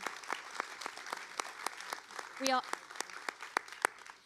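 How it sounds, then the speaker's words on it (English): Audience applause at a documentary screening Q&A, rendered as a run of sharp, evenly spaced claps over a low room murmur, with one brief rising vocal whoop partway through. "Can we just give a round of applause to our director?"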